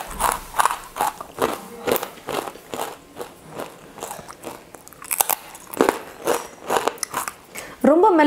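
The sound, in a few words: eating a crispy fried rice flour snack with curry leaves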